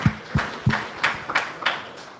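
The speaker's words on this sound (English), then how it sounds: "Round of applause." Applause after a final demo at a tech hackathon livestream: a small group's claps, about seven distinct bursts at roughly even spacing, fading slightly toward the end, with no talking.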